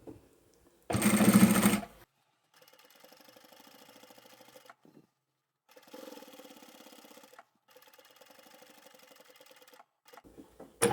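A sewing machine stitches a tab onto a zippered bag in several bursts of rapid, even mechanical whirring separated by pauses, close and clear, with a louder brief noise near the start and no talk.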